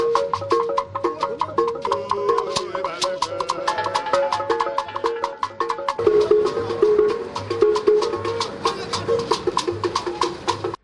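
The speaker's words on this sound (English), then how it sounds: "That was the sound of Ogene music during the Anambra State Walk for" Ogene metal gongs are struck in a brisk, repeating rhythm, with bright clanging beats and a low pulsing undertone, played outdoors during a walk-for-life exercise event in Anambra State.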